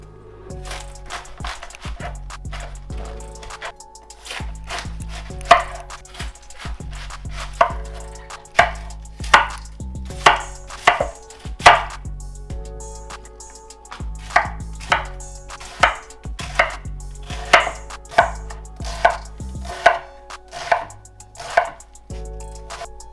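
Knife chopping through nearly a full head of cabbage on a cutting board, a long run of close, crisp thuds at an uneven but steady pace, no talking.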